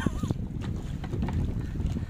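Choppy sea water sloshing and slapping around a kayak off Dubai, with steady wind buffeting the microphone throughout.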